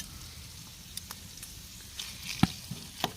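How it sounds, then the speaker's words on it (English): Bacon, garlic and onions fry in a pan at a camp in nature, giving a faint, steady sizzle with scattered sharp pops and crackles. "Let's throw in the garlic and the"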